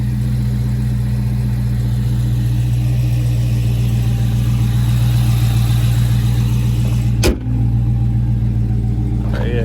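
Low-mileage Dodge Charger Scat Pack V8 idling nearby, a loud steady rumble with a constant low hum, broken by one short sharp click near the end, with no talking.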